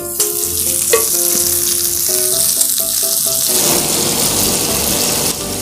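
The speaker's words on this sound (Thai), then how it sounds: "ปิ้งเนย ปิ้งเนย" Butter sizzling on a backyard grill at a townhouse, a loud steady crackle and hiss with a few clinking and scraping tones over it early on.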